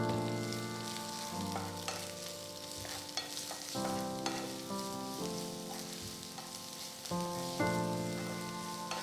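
Chopped garlic, thinly sliced onion and green chilli sizzle in hot oil in a pan for a spinach cheese omelette, with a steady soft crackle, faint stirring scrapes and a low hum underneath.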